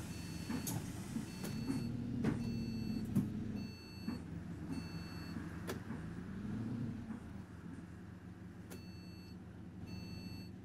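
Bus hazard lights ticking in the OMSI 2 driving simulator, a steady series of soft clicks over a constant low engine hum while the bus sits stopped.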